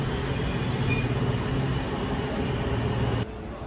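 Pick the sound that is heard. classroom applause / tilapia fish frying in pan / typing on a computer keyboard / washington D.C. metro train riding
washington D.C. metro train riding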